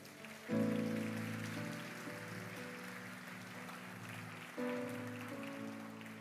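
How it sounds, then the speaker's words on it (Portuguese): A church congregation applauds in a steady, soft wash of clapping that swells at the start and again near the end, over sustained organ-like musical tones. "Você pode aplaudir Jesus?"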